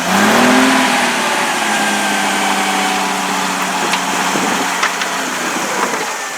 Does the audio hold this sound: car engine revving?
yes